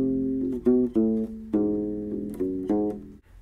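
Bass phrase on a U-bass from measure 8 of Greensleeves: about six plucked notes and double stops in a slow, even rhythm, close and clear, with no talking.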